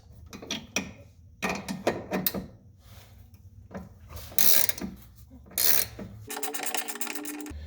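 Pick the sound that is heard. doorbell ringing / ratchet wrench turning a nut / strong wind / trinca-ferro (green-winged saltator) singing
ratchet wrench turning a nut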